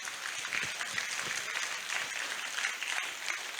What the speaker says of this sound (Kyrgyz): Өзүңүздөр үчүн, мен үчүн эмес, өзүңүздөр үчүн жакшы кол чаап койсоңуздар